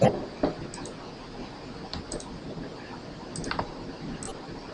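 Computer mouse clicks in desktop software, a few sharp isolated taps spread over several seconds against a quiet room background, close and soft.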